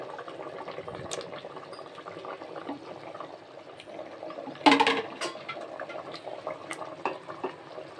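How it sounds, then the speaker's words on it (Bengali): Curry broth simmering in a pot on a gas stove, a soft continuous bubbling with a sudden louder splash and crackle partway through, then lively bubbling that continues close by. "আর এদিকে তরকারির ঝোলটা তো বেশ অনেকক্ষণ ফুটছে"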